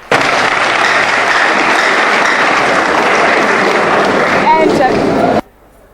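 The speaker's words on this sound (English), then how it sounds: "I want us to give a round of applause to Prime Time" Large audience at the 2005 St Peter's vs Opoku Ware grand finale delivers sustained, loud applause for several seconds, with faint voices beneath, before the clapping cuts off abruptly near the end.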